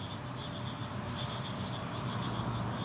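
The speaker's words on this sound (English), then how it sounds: "You can tell it's springtime because you start hearing the bullfrogs and the crickets." Crickets chirp in a steady, continuous trill against a quiet rural spring night, the sound constant and moderately close.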